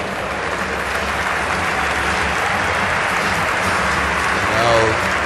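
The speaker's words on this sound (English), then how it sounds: "Crowd applauding Panama for their effort." A basketball arena crowd at a USA versus Panama game applauds in a steady, dense wash of clapping mixed with crowd voices, holding a constant level throughout.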